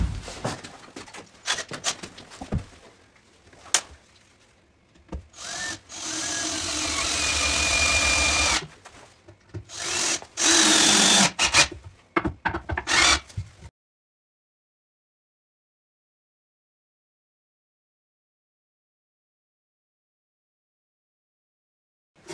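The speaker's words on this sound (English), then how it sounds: "screw the two parts together." Power drill driving screws to join two tube chassis parts, loud whirring bursts of several seconds with short pauses and clatter, then silence for the last third.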